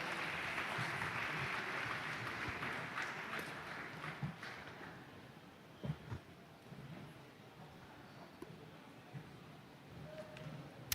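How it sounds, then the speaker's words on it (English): Applause from a youth-filled summit audience rings out as steady, fairly dense clapping for the first few seconds, then thins into scattered, fading claps with a few louder isolated claps near the end. "Can we go ahead and give the Honorable Minister a round of applause?"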